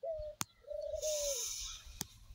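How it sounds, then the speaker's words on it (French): A male quail sings in a backyard, giving a clear whistled note and then a longer drawn-out call, close and alone, with a couple of sharp clicks and faint background hiss. "le mâle que vous avez entendu là chanter la caille, c'est lui"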